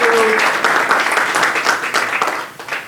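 A meetup audience gives a speaker named John a round of applause, a brief burst of clapping from a room of people that tapers off near the end.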